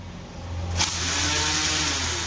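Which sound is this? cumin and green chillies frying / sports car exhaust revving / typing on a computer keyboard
sports car exhaust revving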